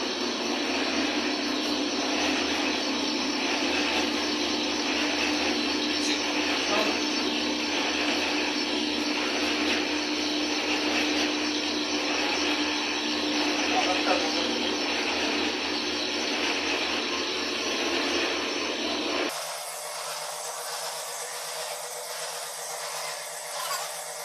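A chowmein noodle-making machine fitted with its cutter runs in a factory, giving a loud continuous mechanical whir and drone that holds steady, then drops to a thinner, higher hum near the end.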